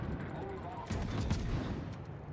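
Naval gunfire in World of Warships, heard as dense rumbling blasts that swell after the first second and carry a broad boom for the rest of the short burst.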